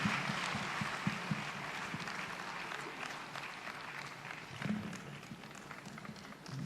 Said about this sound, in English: Please accompany her with a round of applause.